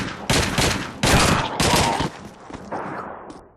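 Rapid bursts of video game gunfire from a shooter set against fascist enemies, loud and dense, firing in three or four volleys that fade into a quieter rattle near the end, with no talking.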